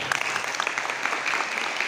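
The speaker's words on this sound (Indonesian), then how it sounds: "Tepuk tangan." Applause at a karate (shindoka) rank promotion exam, a dense, steady wash of many hands clapping throughout, fairly loud and continuous with no gaps.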